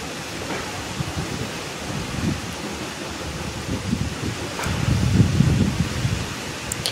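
Stormy wind gusts through mango trees during Cyclone Remal while rain keeps falling, a loud, rough rushing roar that swells and surges toward the end, with no speech.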